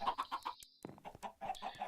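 Chickens clucking in a Minecraft chicken cooker pen in a video game, a run of quick, close, choppy clucks broken by a brief pause before more clucking resumes, with no talking.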